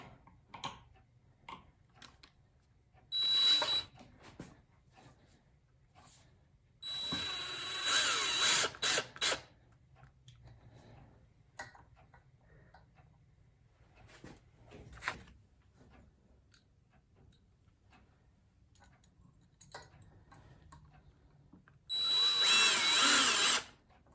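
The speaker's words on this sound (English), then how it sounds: "Now that we have our holes drilled, we can move on to our next step." A power drill boring holes in three separate whirring bursts, the longer middle one rising and falling in pitch, with quiet clicks and handling noises in the gaps between.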